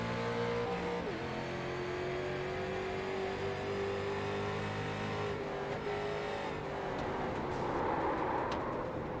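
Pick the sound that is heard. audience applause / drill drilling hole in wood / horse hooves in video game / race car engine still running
race car engine still running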